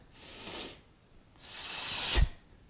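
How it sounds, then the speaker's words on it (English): Two forceful hissing exhalations through the teeth, a softer short one followed by a longer, louder hiss that ends abruptly. "we use this very forceful exhalation where we're hissing the air through the teeth"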